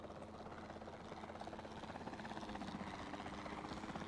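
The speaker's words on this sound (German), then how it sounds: "Dann ist es sinnvoll, ein Einfangteam-Helikopter zu nehmen" Capture team helicopter in the video game Jurassic World Evolution 2, a steady rhythmic rotor chop with engine drone, moderately loud and continuous without voices.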